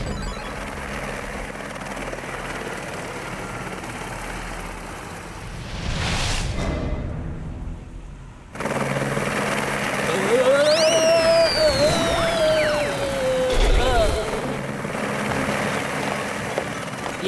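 A cartoon helicopter flies overhead with a steady rotor drone that briefly cuts out, then returns louder, with voices talking over it.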